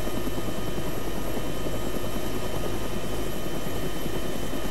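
A medium utility helicopter in ArmA 3 holds a steady hover, its rotor and engine roar loud, continuous and unchanging, with no voices.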